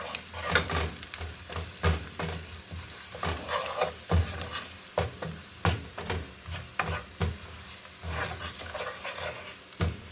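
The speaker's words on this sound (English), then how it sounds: "I will stir my mixture" Fish mixture seasoned with curry powder and salt is stirred in a frying pan, a spoon scraping and clacking in irregular bursts over a steady sizzle throughout, close and fairly loud with no talk.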